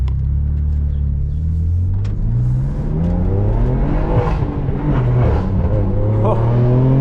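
A BMW M4 F82 pulls away from a parking spot, its engine rumbling low and rising in pitch as it accelerates steadily, close and loud throughout with no speech.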